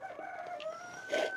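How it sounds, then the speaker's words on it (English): A rooster crows at moderate distance in a short, drawn-out call, fairly faint and heard alone. "I'm being trolled by the rooster."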